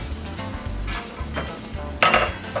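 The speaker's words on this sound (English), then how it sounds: "it wouldn't take this long to cook this sausage if I had the fire turned up a lot higher" Sausage frying in a pan over a low flame, a steady crackling sizzle broken by a few scraping stirs, with one louder hiss and clatter near the end.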